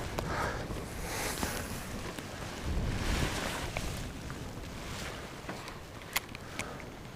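Wind gusts across the open water during a windy afternoon of bass fishing from a boat, a rough, fluctuating roar buffeting the microphone, with faint splashes and small knocks throughout.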